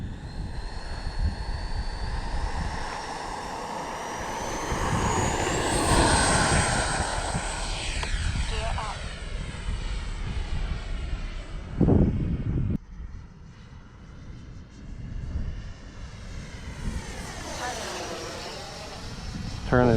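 An RC F-15 model jet on its maiden flight roars steadily overhead with a rising and falling engine whine as it passes, and people can be heard talking in the background.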